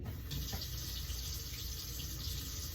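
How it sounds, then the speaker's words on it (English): Hands are washed under a running tap before a head-to-toe medical examination. The water flows steadily and continuously, close and fairly loud, with no voices. "First thing I'm going to do is wash my hands."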